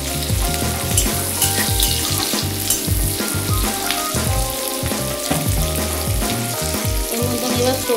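Sliced onions fry in a hot pan with continuous crackling sizzle, broken by irregular stirring scrapes and clatter, loud and close with no talking.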